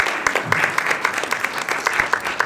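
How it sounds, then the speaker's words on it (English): Audience applause at a film festival short-competition Q&A welcoming a guest from Brazil, a steady patter of many hands with some sharper individual claps standing out. "we are welcoming with round of applause our guest who traveled from Brazil"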